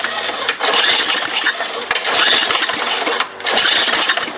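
An MTD Yard Machine snow blower engine runs loud and close with a rough, uneven roar that surges and dips, briefly sagging twice before picking back up.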